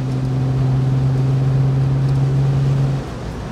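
A 1967 Aston Martin DB6 Volante engine hums at a steady idle, a smooth low drone that holds even for about three seconds and then drops off to a quieter rumble.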